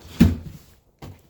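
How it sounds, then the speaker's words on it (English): Door cracked open in a backyard bee setup during bitter cold, giving one short knock and rattle followed by a quieter bump a moment later, close by with no talking. "I'll just crack this door"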